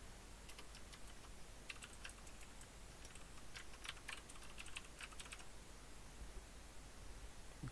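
Soft, rapid typing on a computer keyboard during a coding session, a steady patter of faint key clicks with brief clusters of louder taps over quiet room hiss, no talking.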